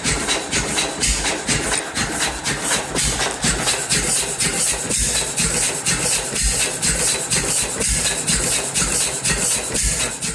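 A Lister 3.9 litre, 10 horsepower stationary engine runs steadily and loudly up close, its rapid, even thumping beat continuing throughout with no voices.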